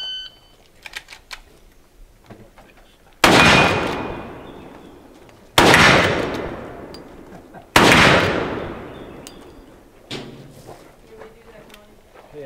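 Rifle and handgun fire at an outdoor shooting match with the Johnson County Rangers: three loud, sharp shots spaced a couple of seconds apart, each ringing out with a decaying echo, followed by a quieter shot, with faint voices and clatter between them.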